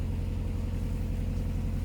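Low, steady rumble of a canal boat's engine running at reduced revs, a continuous mid-distance drone with a pulsing low throb and no voices.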